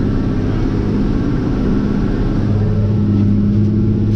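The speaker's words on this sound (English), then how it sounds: "Maybe you could even hear the engine." A tractor engine drones steadily while pulling a submounted moldboard plow through a field, a loud, continuous low rumble with a constant hum and no speech over it.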